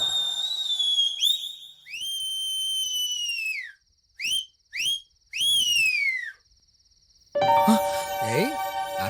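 A person whistles a tune in a comedy scene: a long sliding note, then short chirps and a longer falling phrase, fairly close and clear, followed by faint music at the end.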